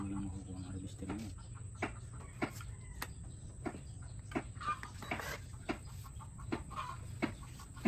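Chickens on a Filipino farm cluck in short repeated bursts, moderately near, over a steady low background hum; people talk nearby.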